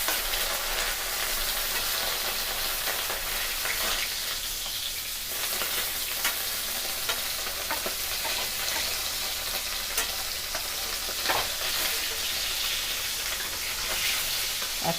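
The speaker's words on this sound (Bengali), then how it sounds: "উল্টে পাল্টে আমরা ভেজে নিচ্ছি।" Parshe fish frying in hot oil give a steady, dense sizzle with crackling pops, continuous and close for the whole stretch with no talking.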